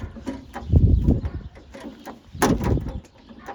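Vehicle doors on a car undergoing door repairs are handled in two bursts, a heavy thudding clunk early on and another solid slam a couple of seconds later, close and fairly loud, with light rattles between.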